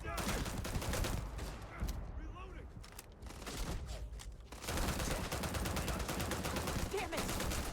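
Weapon fire in Starfield crackles in fast, dense volleys that pause briefly mid-clip and then return just as heavy, with voices talking over the battle.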